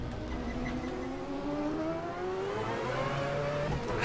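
Race car engines straining under throttle with a Mazda 787 running alongside, a steady loud drone whose pitch climbs gradually as revs build, heard from close by with no break in the engine noise.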